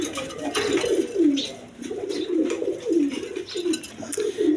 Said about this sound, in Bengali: এখানে এক পেয়ার গিরিবাস কবুতর আছে হাই ফ্লাইং গিরিবাস কবুতর